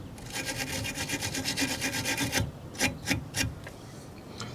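Fine steel wool scrubs corrosion off a small metal clamp from a one-owner Alfa Romeo Spider engine bay, giving a steady rhythmic rasping for a couple of seconds, then a few separate louder strokes, close up with no talking.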